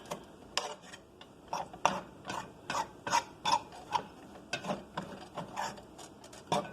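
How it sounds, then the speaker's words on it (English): A vegan, soy-free chickpea scramble is stirred in a pot near its end of cooking, a steady rhythm of close scraping, rasping strokes repeating roughly every half second with no talk. "I've been constantly keeping it moving in the pot so it won't burn"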